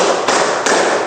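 Classroom of sixth-grade pupils doing a counted clapping routine, with loud, close claps in a few distinct group bursts over steady broadband clatter.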